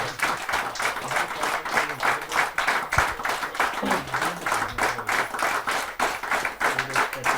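Sustained applause from an audience at a Hindi poetry gathering, steady dense clapping throughout with a few louder claps standing out.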